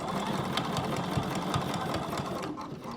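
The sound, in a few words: sewing machine stitching a tote bag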